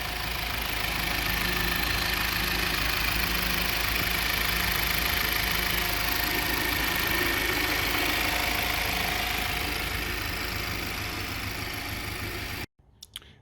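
An Audi 2.0 TFSI EA888 gen 3 engine idles steadily after an oil separator and PCV valve replacement, a continuous close-up hum that holds for most of the clip before cutting off near the end.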